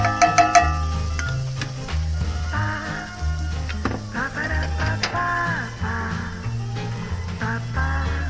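A pan of spicy shrimp Alfredo sauce sizzles while being stirred with a few scraping strokes, set against prominent background music.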